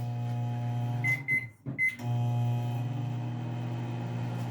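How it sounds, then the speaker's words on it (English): A microwave oven hums steadily, interrupted by a few beeps and clunks as it's set, then resumes its low continuous drone. "I'm just going to put this in the microwave"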